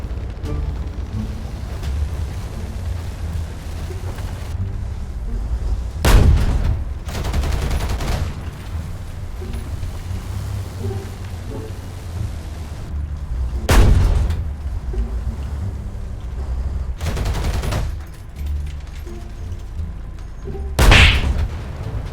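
Tank cannon fire from a VT4A1 tank in a video game: four loud, booming shots spaced several seconds apart over a constant low engine rumble, no voices.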